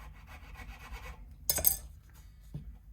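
A file works the nut slot of a PRS Silver Sky guitar in light, faint rasping strokes, followed by one sharper scrape and a small soft tap, close and quiet.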